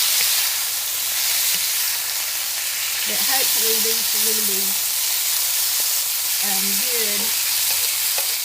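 Green beans frying in a pan, a steady loud sizzle and hiss throughout, with someone talking over it.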